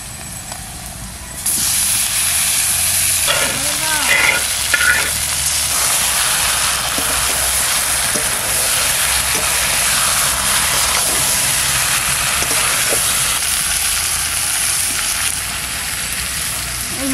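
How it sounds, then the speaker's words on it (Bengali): Fish and potatoes added to hot oil in a pan burst into a loud, continuous sizzle and crackle that holds steady close up, with a few soft clinks of a spatula early on. "এবার এই মাছটা সব দিয়ে দেবো, মাছ, আলু দিয়ে দেবো।"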